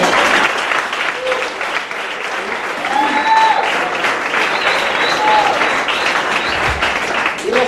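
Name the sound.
audience applause in church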